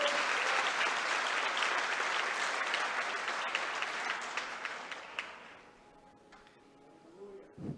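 A crowd at a church service claps loudly and steadily, then the applause gradually thins out and fades toward the end.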